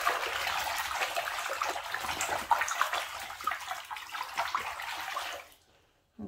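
Water sloshes and splashes steadily as a wig is swished around in a basin of water mixed with fabric conditioner, a continuous close washing sound that cuts off abruptly near the end.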